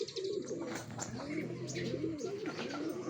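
Pigeons coo close by in soft, throaty, repeated rolling calls, with faint background noise around them.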